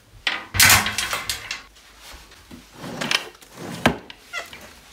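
A wooden drawer is opened and shut indoors in a few loud, close knocks and scrapes spread unevenly over several seconds, with quieter rustling in between.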